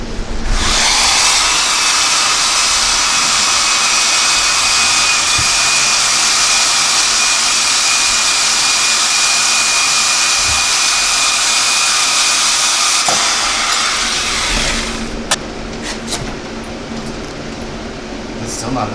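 A power cutting tool whines loudly and steadily for about thirteen seconds while cutting the kickstand off a CRF50 pit bike rat rod, then stops, followed by a few clanks and light handling noises.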